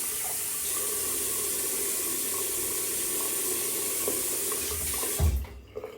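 Tap water running steadily into a sink while hair is wetted, a constant close hiss that cuts off near the end with a brief splash and clunk, no speech.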